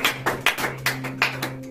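A few rhythmic claps ring out over a sustained low musical tone, roughly six distinct hits in quick succession, close and clear, during a church service acclaiming Jesus.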